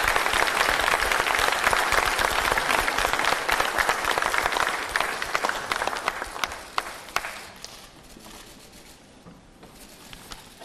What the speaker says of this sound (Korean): 여러분 모두 박수로 맞이해주시기 바랍니다